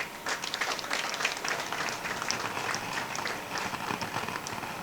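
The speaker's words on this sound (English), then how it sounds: "I'd like to invite all of us to give him a very big round of applause." Audience applause at a customs cadets' graduation ceremony, a broad sustained wash of many hands clapping at a distance, steady for about five seconds without speech.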